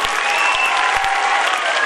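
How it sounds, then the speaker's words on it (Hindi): Audience applause at a school annual function, dense steady clapping from a large crowd held at full level for the whole stretch. "जोरदार तालियां बजनी चाहिए सामाइन।"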